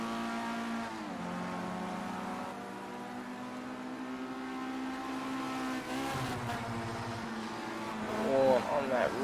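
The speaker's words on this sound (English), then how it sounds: "On that rev limiter coming into the corner." A Formula Rookie race car in Project Cars 2 at Brands Hatch GP sends out a steady, buzzing high-revving engine drone that wavers and bounces in pitch, bumping against the rev limiter and growing louder toward the end.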